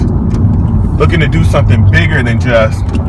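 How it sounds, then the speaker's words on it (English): Heavy road traffic on a homecoming weekend gives a constant loud low rumble of passing cars, with a person talking over it throughout. "it's homecoming weekend, so it's a lot of traffic"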